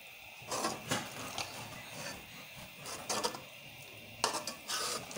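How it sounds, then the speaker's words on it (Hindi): Spinach and fenugreek are stir-fried together in a pan, with a spoon scraping and clattering against the metal in uneven bursts over a soft sizzle, close by and with no talk. "अब हमने पालक को और मेथी को दोनों को इकट्ठा भून लेना है"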